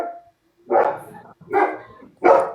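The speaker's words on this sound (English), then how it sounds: "And my loud ass dog." A dog barks loudly three times in quick succession, close by, with a short pause between each bark and no talk.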